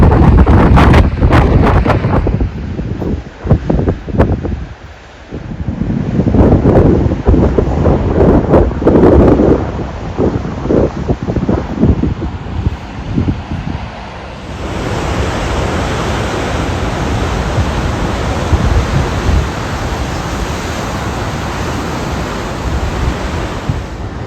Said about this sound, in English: Sounds like thunder when the waves hit the rocks.